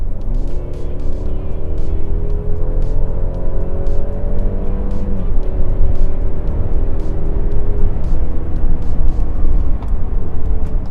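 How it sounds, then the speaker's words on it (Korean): A Mercedes-Benz E300 accelerates hard in sport mode, its engine note climbing loud and steady through the gears with rising harmonic tones for about eleven seconds, heard from inside without talk. "가속 성능을 한번 테스트를 해볼 건데 스포츠 모드로 두고 한번 밟아 보겠습니다"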